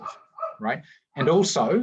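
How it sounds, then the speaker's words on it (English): Dogs bark in short bursts behind a classroom teacher's speech; the yaps and bow-wows come fairly close and mix with the talking. "sorry about the dogs"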